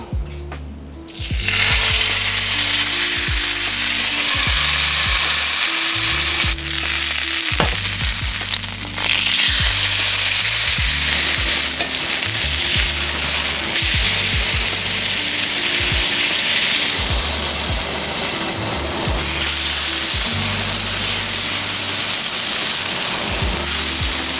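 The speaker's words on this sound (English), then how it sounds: "It's already hot, so we're gonna add our steaks" Steaks drop into a very hot, oiled pan and erupt into a loud, continuous sizzle that stays strong and close for more than twenty seconds, with faint clatters and a low tonal background underneath and no talking.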